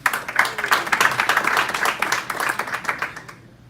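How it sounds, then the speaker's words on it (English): Applause from a crowd at a boxing press conference, dense steady clapping that fades out toward the end. "Big round of applause for Gabriel Rosado."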